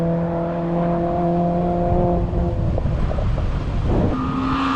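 A Honda Civic engine with VTEC at a Goodwood motoring event drones steadily with strong layered engine tones, shifting pitch as it revs near the end, loud and close with no talk.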